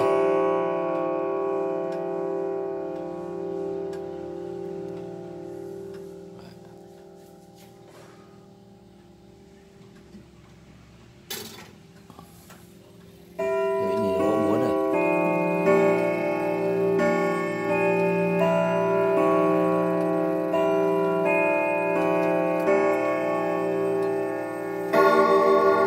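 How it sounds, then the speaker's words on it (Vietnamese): A weight-driven grandfather clock with a German movement, a wooden case about 2.7 m tall, ticks quietly before its hammers strike the chime, ringing loud, sustained, overlapping bell tones that swell partway through. "chuông đang kêu rồi đấy, quý vị thấy nó gõ búa đây"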